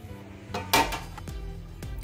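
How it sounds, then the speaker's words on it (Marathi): A lid is lifted off a cooking pot with a brief metallic scrape and clank, followed by a couple of softer knocks of metal against metal in a quiet kitchen. "आता आपण पातेल्यावर झाकण काढून घेऊया आणि एका ताटामध्ये पीठ काढून घेऊया।"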